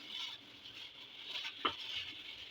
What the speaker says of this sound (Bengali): এটা সময় নিয়ে মাখতে হবে যাতে মশলাগুলি গোস্তের গায়ে ভালো করে লাগে।